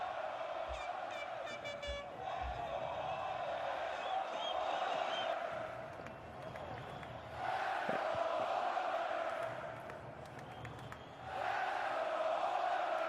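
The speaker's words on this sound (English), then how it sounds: "listen for the openings as the Oilers crowd is bringing it" Edmonton Oilers fans roaring inside the arena during an NHL playoff elimination Game 6 against the Dallas Stars, a loud sustained crowd din that swells in waves with shouts and cheers, heard from a distance.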